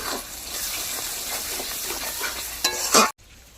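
Fried spice masala with a spoonful of sugar stirred in hot oil for a potol and prawn curry, a continuous soft sizzle with scraping spoon strokes, ending in a brief louder clatter before cutting to quiet.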